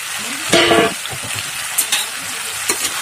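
Potatoes tossed into a pan of sizzling local chicken curry and stirred, a steady frying hiss with a few sharp scraping stirs and a bright splash of sizzle near the start.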